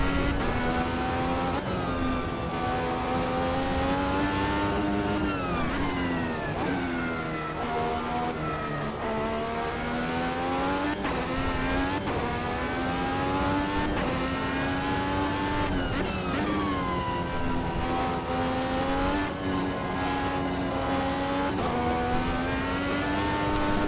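An Indy car engine in the Automobilista 2 racing game revs hard and continuously, loud whining tone rising and falling with gear shifts and throttle lifts throughout.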